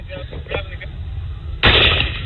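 Close, loud gunfire bursts out during a police shootout with a gunman wearing body armor and armed with a rifle, a sharp blast cutting in after shouted commands and continuing as a dense roar.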